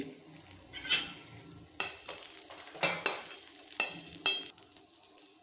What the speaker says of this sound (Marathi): एक चमचा तूप घालूया यामध्ये टाकूया आपण मनुके